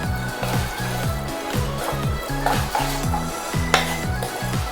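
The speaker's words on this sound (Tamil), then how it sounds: "நல்லா மிக்ஸ் பண்ணி விட்டுறலாம் சிக்கனை. மசாலாவோட." Chicken pieces tossed with masala in a hot pan, a spoon scraping and stirring in repeated strokes over a steady sizzle, close up, without talking.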